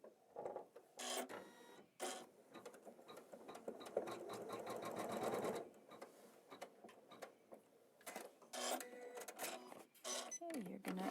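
An embroidery machine stitches a placement line in repeated fast mechanical bursts with brief pauses, a steady whirring chatter up close between short quiet gaps, with a voice speaking around it.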